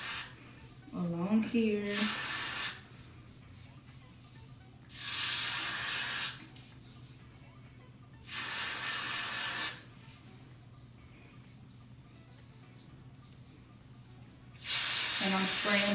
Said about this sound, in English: Just spray the Got To Be